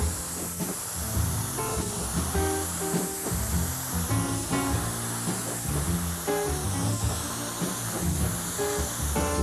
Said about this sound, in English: Now I'm spraying on another coat of the orange shellac.